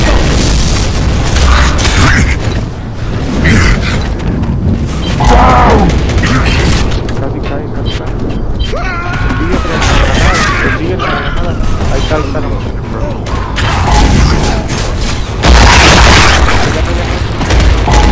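Gears of War 3 tournament match with loud, booming grenade explosions and mechanical weapon clatter in rapid succession, dense and close, with players talking over the din.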